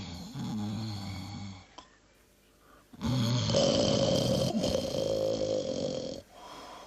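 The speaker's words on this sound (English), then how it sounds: "snored so loudly that the sound of his snores could be heard for miles" A cartoon lion snores very loudly in a 1994 preschool animation. There are two long, rasping, rumbling snores with a quiet breath between them, close and dominant with no talk.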